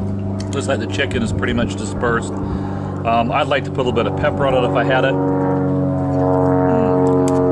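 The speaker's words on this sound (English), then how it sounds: "Sorry about the plane flying over." A low, droning airplane flies overhead outdoors at a hiking spot, a steady tonal hum with layered harmonics that runs beneath someone speaking throughout, then continues steadily after his talk ends.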